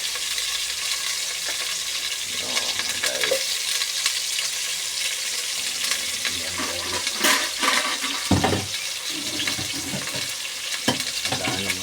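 Garlic frying in a pan, a steady hissing sizzle with intermittent scraping and clinking as it is stirred, close and continuous throughout.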